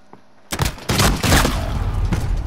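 Revolver shots in Call of Duty Modern Warfare come as a few loud, close booming cracks in quick succession. Dense game noise follows, with the impacts rolling into a sustained rumble.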